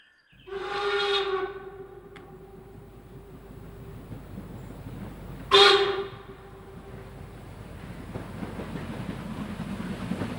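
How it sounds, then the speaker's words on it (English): A steam locomotive whistle with a long bell gives a deep, full tone in two blasts. A long sustained blow is followed by a sharper, shorter second blast, with rolling train rumble in between and after. "A relatively long bell produces a deeper tone like the whistles of German standard"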